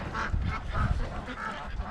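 Ducks in a cage towed around a farm give repeated nasal quacks and honks, several birds calling close and loud in overlapping bursts with no talk.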